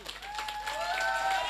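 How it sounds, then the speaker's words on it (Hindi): An audience at a Safe Shop business meeting bursts into loud, continuous applause for a sales achievement, the clapping dense and sustained, with voices mixed in. "जोरदार ताली"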